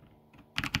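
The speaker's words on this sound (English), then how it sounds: "So if I type text, hello, go away." Keys tapped on a computer keyboard at a late-night desk, a short burst of a few quick, close clicks after a quiet start.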